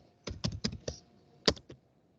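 Quick bursts of keystrokes on a computer keyboard, a rapid cluster of clicks followed by a short pause and a few final taps, close and crisp with no talk.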